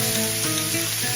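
Thin beef steak searing on a very hot, smoky pan or griddle, a loud, dense, continuous sizzle like heavy rain that holds evenly throughout without speech.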